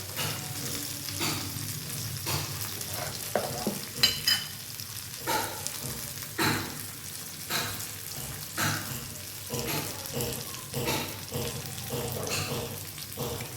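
A shrimp dish fries in a pan with chopped onion, green chili, whole cumin and black cumin, a soft steady sizzle broken by repeated stirring scrapes and clatters.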